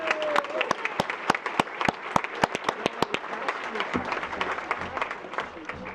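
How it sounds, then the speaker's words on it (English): Audience applause for police and fire honorees at a Lions Club awards event; steady crowd clapping punctuated by loud, sharp nearby claps at a regular pace, tapering after a few seconds with faint murmuring. "let's have a big round of applause for all of them"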